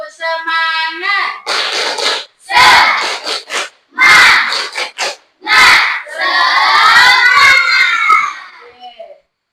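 A group of schoolchildren performs a rhythmic spirit-clap chant during a classroom ice-breaker, with bursts of unison shouting and sharp claps in a patterned call-and-response, led by an adult voice at the start.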